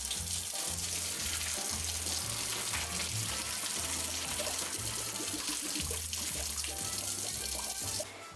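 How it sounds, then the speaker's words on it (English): Cold water runs steadily from a kitchen tap into a sink while hot water is drained, a close, continuous rushing splash that holds evenly before easing slightly at the very end. "I'm going to turn on some cold water while I drain it with this really hot water."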